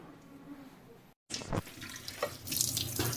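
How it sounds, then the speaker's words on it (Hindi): A kitchen tap runs onto spinach being washed, water splashing and gurgling in a sink after a brief silent cut, close and steady with faint clatter. "अभी पालक को धो रही हूँ"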